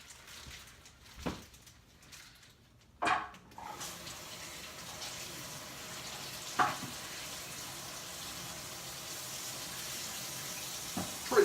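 Tap water runs steadily and quietly as carrots are rinsed in a kitchen sink, with a few soft knocks and clunks from handling them under the stream.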